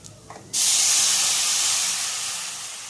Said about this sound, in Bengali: এবার আমি জল ঢেলে দেবো এর মধ্যে